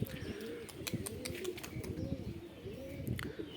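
Madras pigeons coo in soft, repeated rolling phrases, several in a row, low and close, with faint chirps and rustling around them and no one talking.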